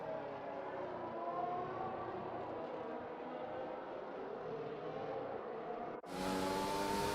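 Racing cars on the formation lap at the Austrian GP in a racing video game: continuous droning engine whine with gliding pitch tones, suddenly jumping louder and brighter near the end, no talking.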